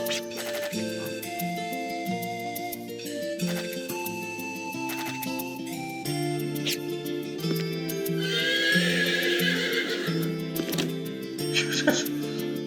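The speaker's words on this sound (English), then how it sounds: "Gotta love the horse sound effects there." A horse whinnies in the video game Wild Arms 3 over steady game music with a plucky melody, the neigh rising and trembling near the end before fading.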